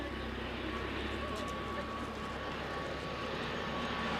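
An ATR turboprop airliner at an airport at night gives a steady, low engine drone with a faint tonal whine, distant and continuous while a person talks over it.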